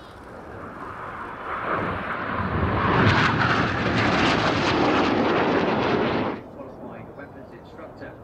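Red Arrows BAE Hawk jets in an aerobatic display at an RAF air show build to a loud, broad jet roar over about six seconds, then cut off sharply, leaving fainter crowd and commentary noise behind.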